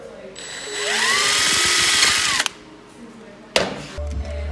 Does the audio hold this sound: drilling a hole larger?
yes